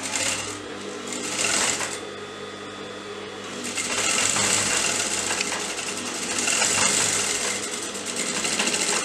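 Close up, a sewing machine stitches blouse fabric layered over lining with a continuous, steady mechanical whir that surges slightly in intensity.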